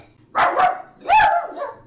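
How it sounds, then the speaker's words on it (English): Guard dog gives two short barks about a second apart, close and loud against an otherwise quiet indoor room. "Such a guard dog."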